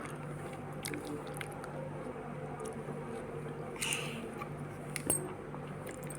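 A person eats haleem close to the microphone, with soft wet chewing and a few sharper bites or spoon clinks over low room noise.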